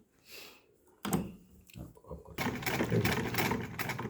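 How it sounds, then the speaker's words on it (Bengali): A sewing machine stitching a half collar runs in short bursts, a brief run early on, then a louder sustained run of stitching toward the end, with a voice speaking quietly between. "সেলাই করছি"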